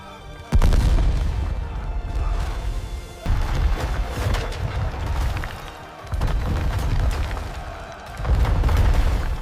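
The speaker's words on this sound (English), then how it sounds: "Cannons hammered, sending stones the size of boulders into the walls." Heavy siege cannon blasts boom in sequence, hurling boulder-sized stones into fortress walls: four deep thuds each followed by rumbling, crashing debris, loud and close.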